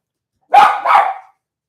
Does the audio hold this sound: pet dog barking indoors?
yes